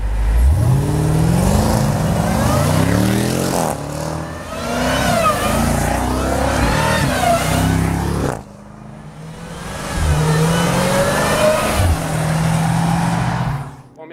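A supercharged 6.2-litre V8 in a Jeep Grand Cherokee Trackhawk revs loudly in repeated bursts, its deep rumble rising and falling with a whining supercharger over it, close up and continuous with a brief dip near the middle.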